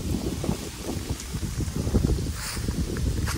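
Steady wind rushing and buffeting against a microphone outdoors by a lake, a continuous low roar with gusty swells and no voices.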